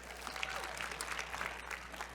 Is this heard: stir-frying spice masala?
no